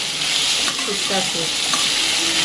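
Onions sautéing in a pan for biryani hiss steadily and loudly up close, with a few faint clinks and scrapes of a spoon moving through them.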